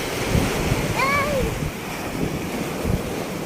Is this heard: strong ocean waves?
yes